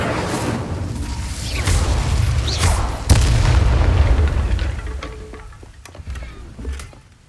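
An Incendio fire spell in Hogwarts Legacy erupts as a loud, deep roaring boom, with a sharp burst partway through and a sustained fiery rumble that tapers off under scattered clicks and pops.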